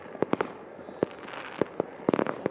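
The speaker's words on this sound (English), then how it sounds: "That's a big firework." New Year's fireworks in Colombia burst in a quick series of sharp cracks and pops, some close and loud, others more distant, with a cluster of rapid crackling near the end.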